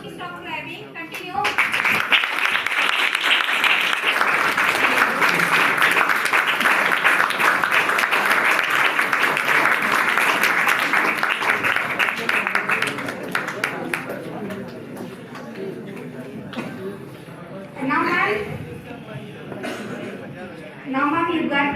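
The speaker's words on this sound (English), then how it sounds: "Don't stop clapping. Continue." Students at a spoken-English school prize ceremony clap steadily for roughly eleven seconds, a dense, even wash of applause that then thins out as people talk and the room settles.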